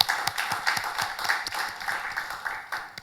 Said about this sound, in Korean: 우리 살아계신 하나님께 영광의 박수 올려드리겠습니다